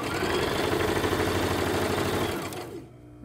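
A sewing machine stitching forward and backtracking to secure elastic on a fabric face mask, running loud and steady in a fast continuous whir before slowing and stopping near the end.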